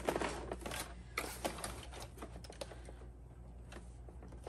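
A sewing machine runs a back stitch along the lining of a zippered pouch, giving quiet, irregular bursts of mechanical clatter with brief pauses, close by and fairly faint.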